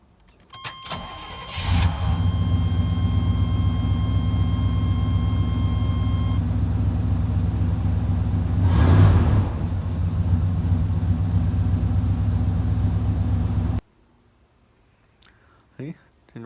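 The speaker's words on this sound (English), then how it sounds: "Got a video of that thing running when I got the truck." A truck's crate motor starts with a cranking catch, then settles into a steady, loud idle that runs for about twelve seconds before cutting off abruptly, with faint sounds afterward.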